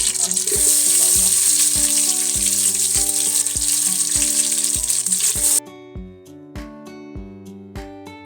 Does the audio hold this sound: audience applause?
no